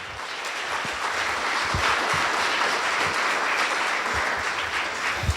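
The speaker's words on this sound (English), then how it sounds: "Let's give the organizers a round of applause, first of all." An audience at a youth mental health summit claps steadily in a dense wash of applause that keeps going throughout, with no speech over it.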